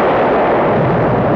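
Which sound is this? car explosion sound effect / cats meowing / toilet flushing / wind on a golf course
car explosion sound effect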